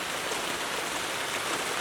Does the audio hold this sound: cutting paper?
no